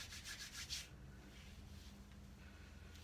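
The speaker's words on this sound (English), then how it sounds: "I'm just going to take some oil and just rub it on the bottom parts of my hair" Hands rub oil into the dry ends of long hair, giving a close, soft rhythmic brushing for under a second, then fading to faint, quiet strokes.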